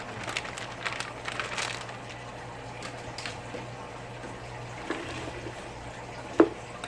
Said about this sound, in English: 12-ounce package of mixed vegetables that you want to thaw. And I'm going to add these to it.